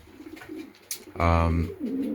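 A pigeon in breeding pens gives a low, throaty coo, a single rolling call close by, with soft rustling and other quiet pen sounds around it.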